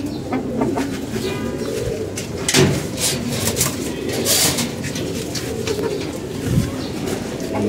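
Army pigeons coo in a loft, with soft, repeated throaty calls rising over steady background rustle and noise, with a few louder bursts along the way.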